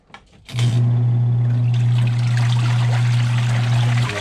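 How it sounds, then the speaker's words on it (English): A twin-tub washing machine starts its wash cycle with a click, then its motor drones steadily while water churns and sloshes inside the tub, loud and close throughout. "turn on the wash so we can watch it agitate"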